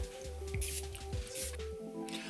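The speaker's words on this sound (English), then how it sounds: "let's apply the fragrance. I'm going to do 2 sprays" Two short bursts of perfume spray from a fragrance bottle, quiet and close, separated by about a second, with faint squishy handling noises around them.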